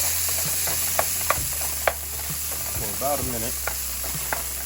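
Hibachi-style vegetables sizzle in a pan of olive oil and butter, a steady close hiss punctuated by sharp clinks of a utensil stirring, with a voice speaking briefly.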